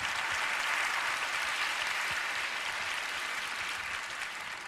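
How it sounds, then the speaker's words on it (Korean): Sustained, dense applause from a seated audience welcoming a guest speaker at a Christian prayer gathering, a steady roar of many hands clapping that stays loud throughout and tapers slightly at the end. "귀하신 영혼들이 이렇게 앉아서 저를 큰 박수로 환영해 주시니까"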